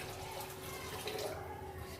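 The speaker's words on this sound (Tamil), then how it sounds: "வேணா கொஞ்சமாக நீங்கள் தண்ணி விட்டுக்கலாம்" A small amount of water poured into cooked chicken pulao rice, heard as a soft, steady trickle at low level throughout.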